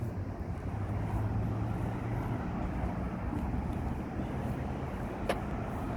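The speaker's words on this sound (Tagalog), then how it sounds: "Ang bilis ng sasakyan." A car speeds along a road in Al-Hassa with a steady, loud roar of engine and tire noise from inside the vehicle, unbroken apart from a brief click near the end.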